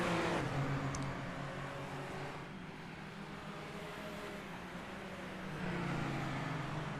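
A racing car in a video game on the Laguna Seca circuit, powered by a 1.6-liter turbocharged three-cylinder Toyota engine, drones steadily with a shifting engine pitch, moderately loud and continuous with no speech.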